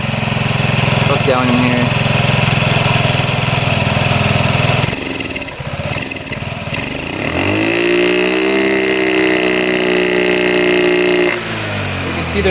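A scooter engine running with its carburetor boot removed and spitting fuel, close and loud; it runs rough and boggy, stumbles and dips midway, then revs back up to an uneven idle while someone talks over it.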